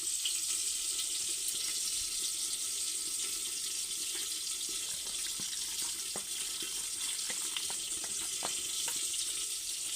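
Water trickles steadily from a tap into a bowl of ground turmeric, chilli, coriander and Kashmiri chilli powder in a home kitchen, a faint continuous pour with small clinks and splashes scattered through.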